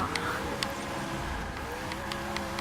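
A steady, loud engine roar fills the space with a dense, boomy drone as a Koenigsegg One:1 race car echoes through an enclosed tunnel in the Forza 6 video game, Rio track.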